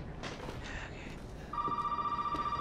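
A telephone in Resident Evil 7, played in VR, starts ringing after a stretch of ambient game noise, giving a loud, steady, rapidly trilling electronic bell that continues to the end, with no voices.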